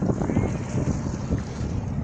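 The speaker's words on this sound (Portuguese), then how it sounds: "embarcação tá aí, passando" A boat passes on open water during a fishing outing, its rumble mixed with strong wind buffeting the microphone and the wash of waves, loud and continuous.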